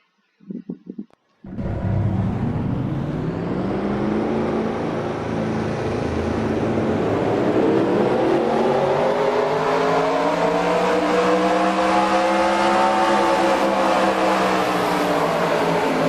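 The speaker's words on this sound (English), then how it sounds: "Drivers, start your engines!" Several race car engines fire up after a brief short noise at the start of a speedway race, then roar and rev steadily and loudly, their pitch climbing and wavering together for many seconds.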